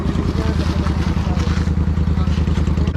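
A motorcycle engine throbs loudly and close by in a fast, even rhythm, holding a steady pitch without clear rises.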